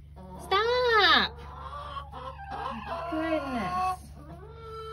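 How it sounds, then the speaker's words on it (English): Hens in a coop squabble over nesting boxes with loud, harsh squawks and agitated clucking in two bursts over steady background hum. "Why do chickens have to be so bad?"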